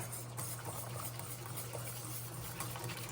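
Pectin is stirred into a boiling pot of homemade lilac jelly, giving a soft, steady scraping and stirring over a low bubbling hum.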